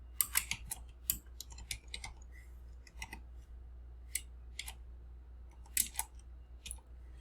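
Keys clack in short irregular bursts on a computer keyboard while C++ code is typed, close up and fairly quiet over a steady low hum, with small pauses between the clusters of strokes.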